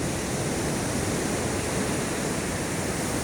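Big waves crashing during Typhoon Kristine, a loud dense roar of surf and churning water filling the whole moment without pause, close and overwhelming, with no voices audible.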